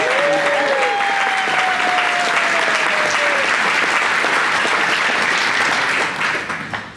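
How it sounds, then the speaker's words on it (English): Wedding guests at a reception applaud loudly during the toasts, a full, sustained burst of clapping from a large crowd with a brief whistle near the start, tapering off at the end. "everyone please give a big round of applause"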